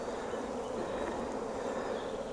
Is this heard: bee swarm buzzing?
yes